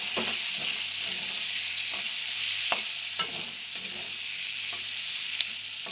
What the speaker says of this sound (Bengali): এখন এই তেলে মশলাটা একটা বেজে নেব